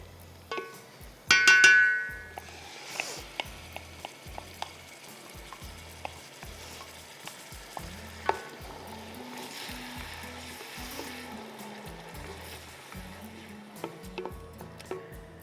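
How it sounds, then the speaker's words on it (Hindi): Blended tomatoes hit the pan for an egg curry, with a loud burst of sizzling frying followed by steady crackle, a spoon stirring and clinking against the pan throughout. "टोमेटोज़ मैं अब डालूँगी इसमें 2 ब्लेंडेड।"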